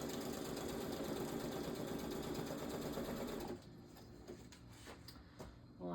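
Sewing machine stitching around a book, a close, steady rapid mechanical whir for about three and a half seconds, then stopping abruptly and leaving faint handling noises.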